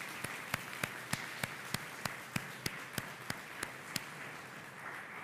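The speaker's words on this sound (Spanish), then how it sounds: "Un aplauso a Jesús." A church congregation claps in a slow, even rhythm over a soft background hiss, about a dozen sharp beats spaced roughly every quarter second before fading out.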